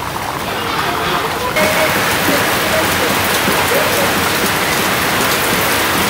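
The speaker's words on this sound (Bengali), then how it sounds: "আর এই পাশে বৃষ্টি শুরু হয়ে গেছে।" Rain falls steadily in a village setting, a dense close patter on surfaces that grows a little louder partway through and stays constant, with no talking.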